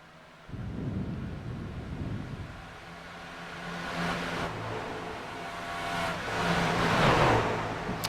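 Race trucks lap Las Vegas Motor Speedway in a racing game, a rumbling roar of engines that starts abruptly, swells and fades as the pack sweeps past, then builds again into a loud, close surge near the end.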